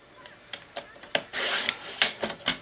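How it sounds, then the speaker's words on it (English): A Fiskars paper trimmer cuts small half-inch pieces of card, a few short scraping slices and clicks heard up close with a longer rasping pull partway through, with no voices. "I'm cutting little 1/2-inch pieces on my trimmer"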